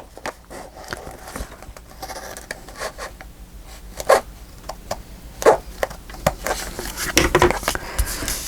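Scissors cutting junk mail paper for an envelope journal give close, irregular snips and rustles, with a few sharper louder cuts toward the end.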